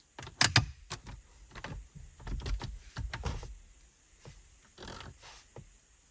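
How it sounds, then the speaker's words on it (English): The plastic MMI display screen of a Skoda Octavia Mk3 is pressed into the dashboard, giving a series of close, sharp clicks and knocks with irregular rhythm and no talking. "the screen will now just clip into place"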